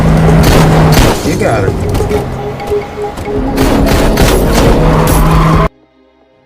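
Gunfire rings out in a movie car-chase shootout, dense bursts and booming shots piling over engine noise and action score, with a brief spoken line, before cutting abruptly to near silence at the end.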